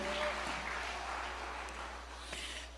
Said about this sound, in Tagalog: Isa po na pang malakas na palakpak para sa mahal na Panginoon